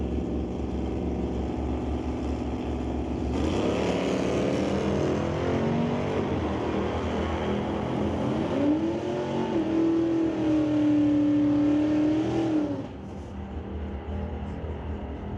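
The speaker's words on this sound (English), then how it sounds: "Oh, fun little drag race, wasn't it?" Alcohol-fueled drag race cars roar down the strip at an NHRA Northwest National Open Series pro race, a loud sustained engine howl that swells and rises in pitch before dropping away, with crowd noise beneath.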